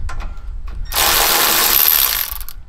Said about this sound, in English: Now that it's broken loose, you can go ahead and remove this castle nut completely.